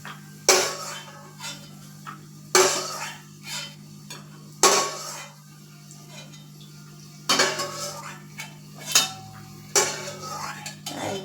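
Fried peanuts are scooped out of hot oil in a pan, with a metal spoon or slotted ladle striking the pan in sharp, separate clanks at irregular intervals. Quieter scraping fills the gaps, and a faint low hum runs underneath.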